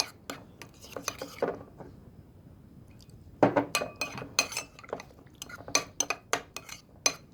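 Spoon stirring tomato and pepper paste with water into a sauce for oven-baked meat, giving irregular scraping clinks against a bowl, a short run, a pause, then a busier burst of taps, close and alone.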